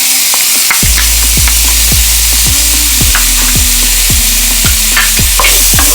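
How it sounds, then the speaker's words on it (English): Red pepper and garlic sizzle steadily in a pot as they are stirred, a constant frying hiss punctuated by regular stirring strokes roughly twice a second, with no talking. "So now I'm just going to give this a stir until they become aromatic"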